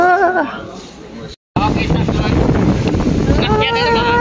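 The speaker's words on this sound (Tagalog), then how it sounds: "Lakas ng hangin." Strong wind at Bulabog Beach, Boracay, during the southwest monsoon buffets the microphone in a constant roar, briefly cutting out, with a voice speaking over it near the start and end.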